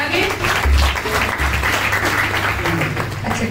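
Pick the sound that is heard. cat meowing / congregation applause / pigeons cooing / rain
congregation applause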